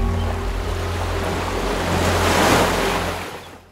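Sea waves roll onto Hedvi beach near Guhagar on the Konkan coast, a loud continuous surf wash swelling toward a peak and then easing, with wind rumbling against the microphone.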